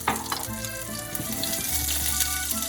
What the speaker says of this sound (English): That's 4 cloves of garlic that I kind of gave a rough chop. I'm gonna give half a teaspoon red chili flake.